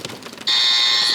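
A quiz game buzzer sounds during a French general-knowledge contest, a loud, steady electronic tone that cuts in sharply after some faint murmuring and holds without a break.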